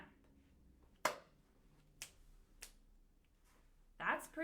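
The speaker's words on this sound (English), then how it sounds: "So now the pattern goes clap, snap, snap." Crisp finger snaps ring out at preschool story time, a few sharp isolated clicks spaced about a second apart, with a louder burst at the end, close and alone against a quiet room.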